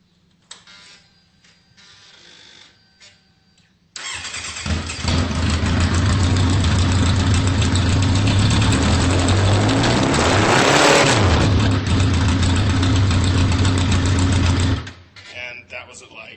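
A new Kawasaki Z1000 motorcycle fitted with short Shorty GP exhaust pipes starts up and holds a loud, raspy rev around 3,000 RPM for about ten seconds, with a brief rise and fall in the middle, then drops back to quiet.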